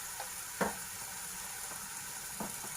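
Red chilli and white lima beans fry in a pan with a constant, fairly loud sizzle, punctuated by a couple of soft knocks from stirring, no voices.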